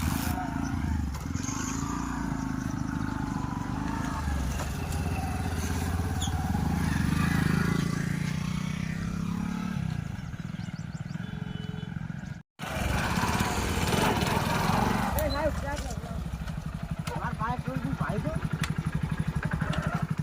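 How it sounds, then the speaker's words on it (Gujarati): A new motorcycle's engine running with a rough, droning idle that rises and falls, close by, with people talking over it and a brief cut midway. "બાયક નવું છે. હવે ચાલુ કરો હો."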